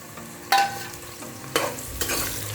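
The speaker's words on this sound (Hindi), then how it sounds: "ऑयल हमारा गर्म हो चुका है। अभी हम इसमें डाल लेते हैं प्याज।" Finely chopped onions for chicken biryani fry in hot oil with a steady close sizzle, punctuated by a few sharp hissing bursts as they are stirred; no voices.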